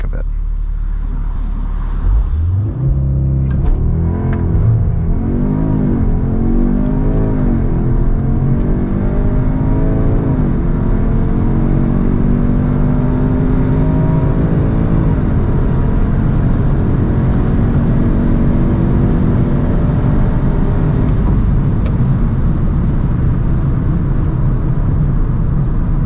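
A 2021 Audi S3 launching hard under launch control, its engine note climbing steadily through the gears as it accelerates, heard loud and close from inside the cabin, with a continuous rumble and rising whir throughout.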